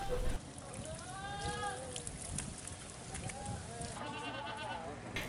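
Goats being sold as sacrificial animals bleat repeatedly in a noisy outdoor setting, with running water and background voices, the calls moderately close but partly masked.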